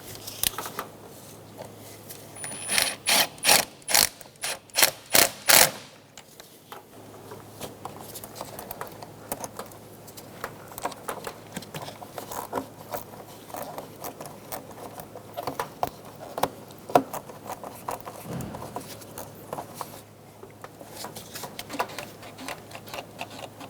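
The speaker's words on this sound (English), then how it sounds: "Tighten down the 2 hose clamps." Ratchet tightening the two hose clamps on the air intake hose of a 2007-2012 Nissan Altima: quick bursts of close, crisp clicks, then quieter scattered ticks and handling noise.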